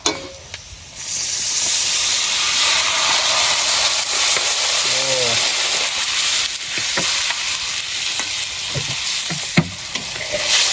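Water hitting a hot pan while cooking freshly netted fish, giving a loud, sustained hiss and steaming sizzle that lasts throughout, with a few clinks and sharp pops near the end.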